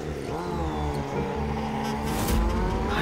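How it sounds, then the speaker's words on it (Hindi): A motorcycle engine revs and rumbles close by in a steady drone for about three seconds, rising slightly toward the end, with no voices over it. "ये तो उसी छिछोरे की मोटरसाइकिल की आवाज लगती है।"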